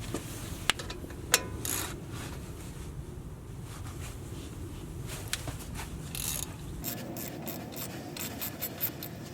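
A wrench works on a brake caliper bolt of a Jeep Rubicon 4x4, giving close mechanical ratcheting and scraping clicks with a few sharp metallic knocks over a steady background rumble.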